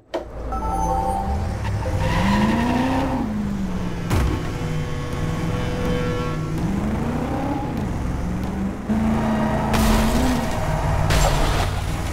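A car drifting in the Driver San Francisco video game, played with a wheel and pedals: a loud, continuous engine whose revs rise and fall, with tires squealing throughout the slide.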